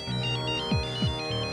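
An electronic phone ringtone plays a repeating melodic pattern, clear and close, with swooping tones, no voices, in a Hindi TV drama.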